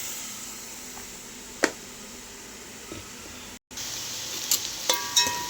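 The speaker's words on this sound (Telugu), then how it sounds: "ఇప్పుడు దీంట్లోకి ఈ బోటీ తీసి దీంట్లో వేసుకుందామండి" Goat tripe (boti) going into a hot pan for curry, a steady soft frying sizzle with a few brief stirring clatters and scrapes, moderately quiet and close.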